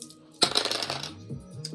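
Red and white dice tumble onto a table in one sharp clatter with a brief rattle that settles, then fades, heard close and alone.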